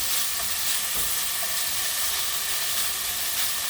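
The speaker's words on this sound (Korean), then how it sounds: "고기가 잘 지금 볶아지고 있죠. 기름도 좀 나오려고 그러는 것 같아요." Pork stir-frying in oil in a pan for kimchi stew, a dense, loud, continuous hissing sizzle with faint stirring underneath, close up and unbroken.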